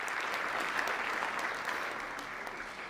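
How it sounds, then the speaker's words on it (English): An audience at a women's panel event gives a steady round of applause, dense and even throughout, slowly tapering toward the end with no talking over it. "give yourselves a round of applause"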